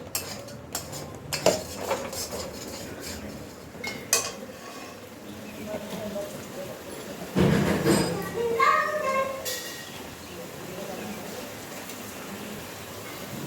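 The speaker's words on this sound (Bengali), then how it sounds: "বন্ধুরা এবার কেটে রাখা টমেটোটা দিয়ে দিলাম মশলাতে।" Cut tomato goes into masala in a pan for a Bengali fish-egg curry with potato and pointed gourd. A spoon clatters and scrapes against the metal pan, with soft sizzling and children's voices in the background.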